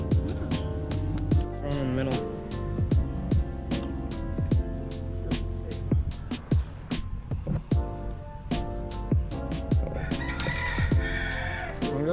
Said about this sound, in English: There goes the rooster.